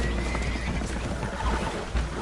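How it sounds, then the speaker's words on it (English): Spooked horses neigh amid a steady wash of water and creaking on a holed, flooding boat in Red Dead Redemption 2, the whinnies loud and mixed into continuous noisy game ambience. "Horses are spooked, and we're taking on water."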